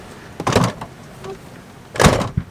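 A faulty van door that won't close or lock is worked twice, each time a loud clunking rattle and thud at close range, with a quiet gap between the two bursts.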